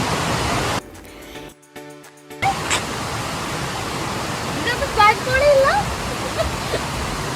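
A waterfall roars in a continuous loud rush of falling water, briefly cut out near the start, with a voice speaking over it.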